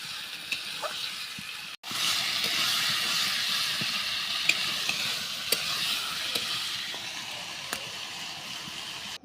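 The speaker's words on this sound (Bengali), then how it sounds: "মাংসটা কষিয়ে নিতে হবে।" Meat being stirred and fried in a spice paste, a continuous bright sizzle with scattered spatters and occasional sharp scrapes of the spoon against the pan, close and steady, with one brief cut early on and no voices.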